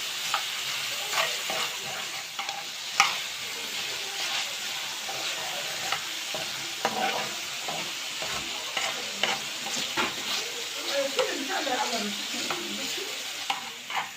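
Shrimp sizzling in a hot pan as a spatula stirs them in irregular scrapes and clacks, a steady close fry under sporadic utensil knocks.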